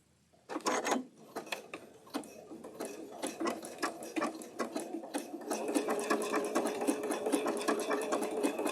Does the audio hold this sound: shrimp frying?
no